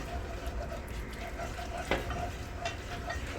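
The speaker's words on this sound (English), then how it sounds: "I'm going to use my whisk, get all the flour into the butter, and you'll see it starts making a nice little paste down here" A whisk works flour into melted butter in a pan to build a roux for macaroni and cheese, giving a soft continuous scraping swish with a faint sizzle and a couple of light clinks, fairly quiet.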